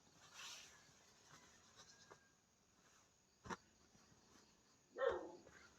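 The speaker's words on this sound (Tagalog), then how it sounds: "Nag-iingay na naman ang aming aso dyan sa labas." A dog barks a couple of times at a distance, with faint bleat-like yelps in a quiet outdoor setting.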